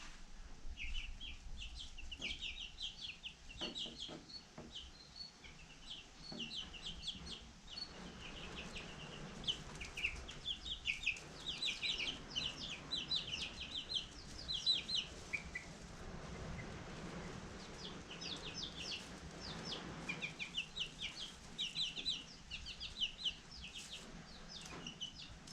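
Many chicks cheep and cluck in quick, overlapping bursts close by, a busy chatter continuing throughout over a low background rumble.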